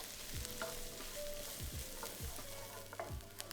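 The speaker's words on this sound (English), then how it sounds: "Cook for 2 to 3 minutes, stirring often until the onion just starts to soften." Finely diced small onion sizzling in oil in a pan while being stirred often, a steady frying hiss broken by repeated scraping strokes of the utensil.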